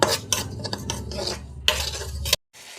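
Semolina frying in a pan, stirred steadily so a close, continuous scraping and clinking runs throughout, then cuts off abruptly near the end.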